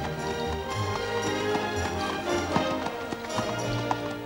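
Old horses walk along with hooves clip-clopping in an uneven rhythm, close by, over a busy background with faint voices.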